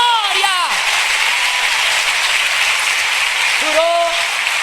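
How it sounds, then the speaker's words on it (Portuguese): At a church conference, a large congregation claps and cheers in a loud, continuous wash of applause, with a preacher's voice calling out briefly at the start and again near the end. "quando é para aplaudir a Jesus é com vontade"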